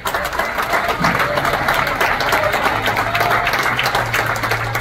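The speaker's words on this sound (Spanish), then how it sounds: "Fuerte el aplauso al Señor" A church congregation claps loudly during a women's campaign service, a dense continuous stream of applause with a low sustained tone and some crowd murmur underneath.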